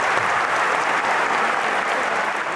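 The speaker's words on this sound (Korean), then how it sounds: "우리도 박수 한번 쳐줄까요?" A church congregation claps together in sustained, steady applause that fills the room, dense and even throughout with no voices standing out.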